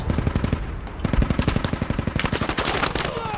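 Rapid automatic rifle fire in the Squad video game, rhythmic close bursts of shots, loud and steady across the whole stretch with other distant gunfire mixed in.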